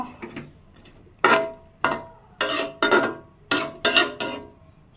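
Cooked food being stirred in a pot with a little water, giving a series of short clattering scrapes and knocks of utensil against the pot, close and moderately loud, arriving in irregular bursts with no talking.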